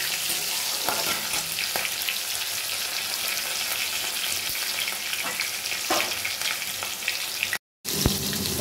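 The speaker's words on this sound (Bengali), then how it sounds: "এবার টমেটো আর কাঁচা লঙ্কাটা দিয়ে দিলাম। আর ফোড়নটা সুন্দর করে ভেজে নিয়ে" Tomato and green chilli sizzle loudly in hot oil for a cabbage dish, a dense continuous frying hiss broken by occasional stirring scrapes and a brief cut near the end.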